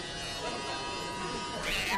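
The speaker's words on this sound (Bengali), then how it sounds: "দাড়িগুলোও দেখা যাচ্ছে বড় হয়ে গেছে, একটু ছেটে ছোটো করে নেওয়া যাক।" An electric shaver buzzes steadily while trimming a beard, a close, continuous motor drone that rises slightly toward the end.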